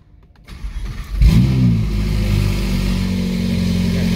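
A Ferrari 488 GTB engine cranks and fires up with a loud burst, then settles into a deep, throaty idle close by.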